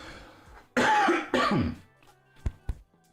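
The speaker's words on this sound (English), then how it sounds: "I don't want to keep coughing in the mic here." A congested man coughs close into a microphone, two harsh loud bursts followed by quieter throat sounds and small clicks.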